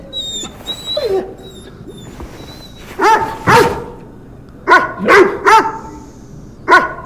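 A dog barking in the Firefighting Simulator video game, several loud close barks in short bursts with a soft whine before them, over faint game background noise.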